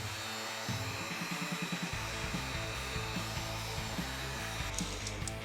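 Heat gun or dryer blowing on a Porsche Boxster brake caliper before priming, a steady whooshing roar with an uneven low hum that shifts in pitch throughout.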